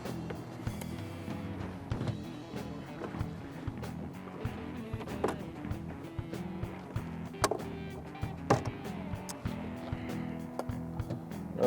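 A boat's trolling motor runs with a steady low hum on an offshore fishing trip off New Smyrna Beach, accompanied by scattered clicks, knocks and water noise from the hull.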